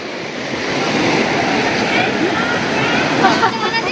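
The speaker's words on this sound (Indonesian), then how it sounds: "Dan ini adalah aliran sungai yang pertama ya." A river stream on the trail to Curug Cisadane waterfall near Bogor, a loud, continuous rushing of flowing water close by that builds gently and holds steady.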